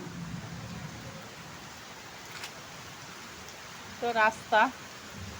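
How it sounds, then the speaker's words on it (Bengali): Heavy rain pours down outside a third-floor home, a steady hiss of falling water throughout, with a person briefly speaking near the end. "আর অনেক বৃষ্টি নামছে"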